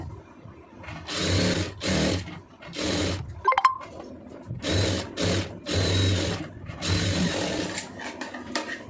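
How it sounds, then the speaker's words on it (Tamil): A sewing machine stitching an armhole lining seam runs in about six short, loud whirring bursts with brief pauses between, plus a small metallic clink midway. "இப்போ நம்ம எங்கே ஜாயின் போட்டுக்கோமோ அதில் அப்படியே தையல் ஓட்டிடுங்க"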